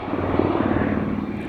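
A helicopter flies over Roosevelt Island in the city, a steady, continuous rotor-and-engine rumble that stays loud and close throughout with no voices.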